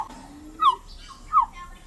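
Kaka parrots calling in an aviary in a New Zealand nature reserve, two short, clear, fairly close squawking calls about half a second apart against quiet background.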